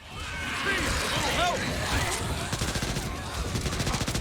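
Gunfire in the zombie shooter game Back 4 Blood crackles in rapid bursts, dense and loud, with sharper repeated shots toward the end, mixed with game effects and background voices.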